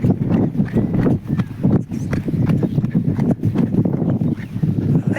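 A calf's hooves running and clattering near a bullock cart on a farm, a close, busy stream of irregular thuds and clip-clops with rustling, continuing throughout.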